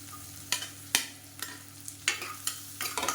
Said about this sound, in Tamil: இப்போ இதில் பூண்டு வந்து நச்சு வச்சதை சேர்த்துக்கலாம்